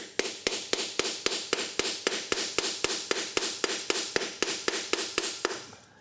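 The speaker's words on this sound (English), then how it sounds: "I'm going to try hammering at this" Steady metallic hammer blows drive a socket onto a part of a Ford 5.4L 3V engine, about four times a second, over twenty sharp evenly spaced hits with ringing after each.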